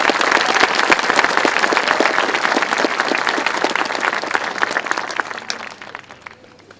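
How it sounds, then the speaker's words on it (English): An audience at an 8th grade graduation ceremony applauds the musicians with a loud, dense burst of clapping that holds strong for several seconds, then thins and fades away toward the end. "Will you please join me in another round of applause for our musicians?"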